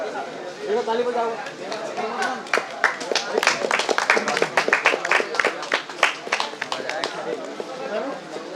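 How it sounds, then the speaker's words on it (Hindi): Crowd at a kabaddi event in Rajpur, Dhamtari, bursting into sustained, dense clapping and applause, with voices chattering over it at the start. "ताली बजाओ।"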